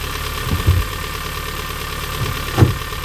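MINI R50 engine running warm with two brief blips of throttle, low rumbling rises standing out from a steady idle, close by with no talk.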